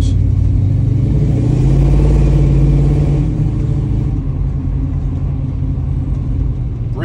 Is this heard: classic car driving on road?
yes